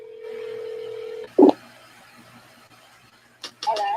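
A phone call is placed: a steady tone, then a quick burst of dialing beeps, a quiet stretch, and two short ringback pulses near the end, close and clear.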